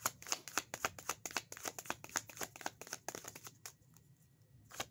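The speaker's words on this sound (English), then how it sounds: "Let me shuffle it at least once." Tarot cards being shuffled close by, a quick run of crisp riffling flicks that eases off near the end, with no talking.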